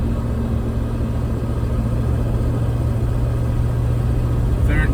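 A Mercedes E420 with a manual gearbox pulls uphill in third gear at about 2000 RPM, its engine a steady, continuous low rumble from inside the car with no talk.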